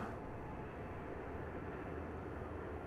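A Boeing 737-800 takes off from Dallas Fort Worth airport, its jet engines a faint, steady distant roar with no talk.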